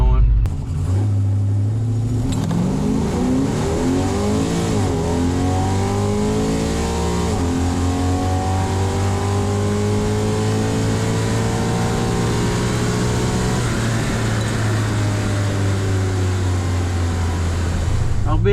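A drag race car launching at US 131 Motorsports Park, its engine roaring loud and close, revving up through the gears with rising and falling pitch sweeps over a sustained drone.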